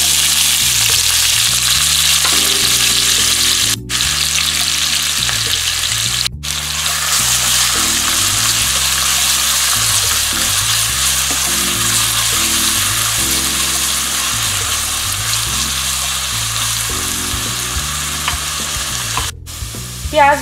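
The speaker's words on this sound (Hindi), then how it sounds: "ऑयल गर्म हो चुका है, और एक बड़े साइज की स्लाइस की हुई अनियन डाली है" Large sliced onions frying in six tablespoons of hot oil in a pan, a steady loud sizzle running continuously over a faint background tune.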